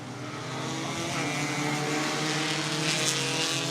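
A pack of IMCA Sport Compact race cars roars off at the start of a heat race at Cottage Grove Speedway, the engines building into a loud, sustained, droning rumble.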